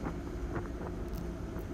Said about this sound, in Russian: Поднялся уже сильный ветер, волна.